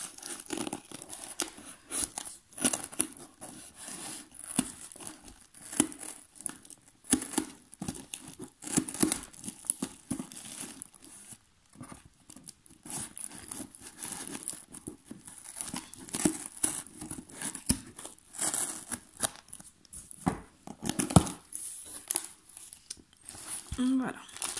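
Plastic shrink wrap is torn and peeled off an oracle card deck, giving close, irregular bursts of crinkling and ripping that run on for many seconds with brief pauses.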